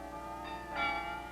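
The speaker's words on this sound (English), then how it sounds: "They were all given a complete carillon of 53 bells" Carillon bells ring from an Amsterdam city church tower, a steady sustained chime with tones swelling brighter partway through, heard alone without voices.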